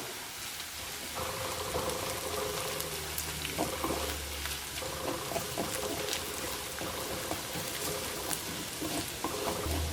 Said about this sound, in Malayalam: അപ്പോൾ ചുവന്നുള്ളി ചെറുതായിട്ട് മുരിഞ്ഞു തുടങ്ങിയിട്ടുണ്ട്